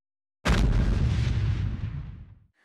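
A huge, deep explosion boom of a nuclear bomb blast, bursting suddenly and then rumbling heavily as it slowly fades over about two seconds, heard alone.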